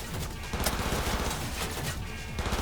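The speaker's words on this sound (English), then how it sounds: "There is now gunfire out there." Dense, rapid gunfire from a combat encounter in the video game Cyberpunk 2077, a loud continuous burst of overlapping shots and impacts with no pauses.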